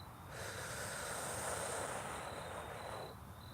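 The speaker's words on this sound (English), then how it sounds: "And one more time, breathe in." A person draws in one long, deep breath during a guided breathing exercise, a steady airy rush that rises, holds for nearly three seconds and then stops, close to the microphone and alone.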